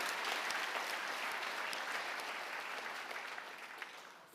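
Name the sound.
audience applause at awards ceremony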